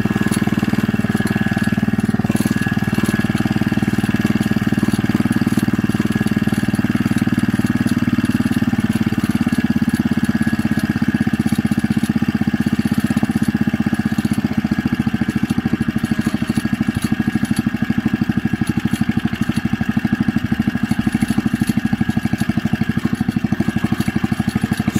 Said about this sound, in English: I'm going to try to see how low we can get the idle on this before it craps out.